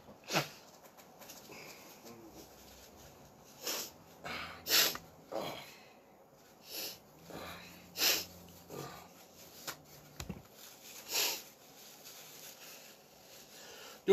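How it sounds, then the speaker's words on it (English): A person blows their nose several times, with short nasal snorts, sniffs and honks spread out in bursts and quiet breathing between them. "I gotta blow my nose"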